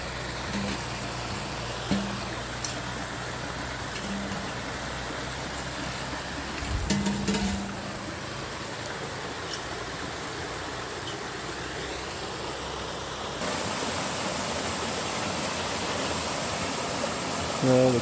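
Steady broadband rush of creek water flowing over a waterfall near Lake Barrina, North Queensland, Australia, continuous and fairly loud throughout, with a brief bump of louder noise midway.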